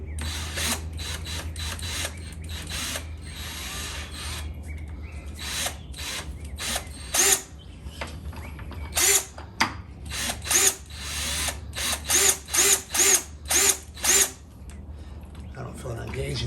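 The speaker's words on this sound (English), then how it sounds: "Now, this here is a priming tool for the oil pump." A power drill spins an oil pump priming tool inside a Pontiac junkyard engine that sits out of the car, running in short repeated bursts with someone talking between them.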